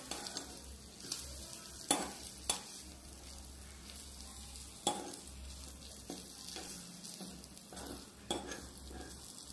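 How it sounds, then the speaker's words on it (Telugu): Butter garlic prawns with oregano stirred in a pan: a steady low sizzle broken by scraping strokes and a few sharp clinks of a utensil against the metal, close up with no talking. "ఆరిగేనో వేసేసాం కదా, ఇప్పుడు మనం మిక్స్ చేద్దాం."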